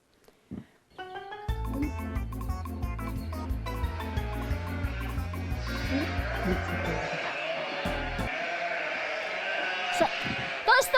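Sheep bleats sound in a sheep-counting video game, repeated short cries over a steady musical background, with a few clicks at the start and end.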